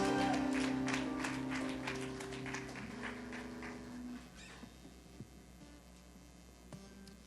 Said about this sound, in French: Tu donnes une bonne main d'applaudissement à notre papa.